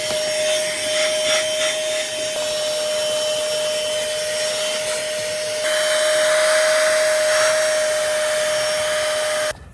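A small handheld vacuum with an angled crevice adapter runs steadily while cleaning a car carpet, a continuous close whine that gets louder partway through and cuts off at the end.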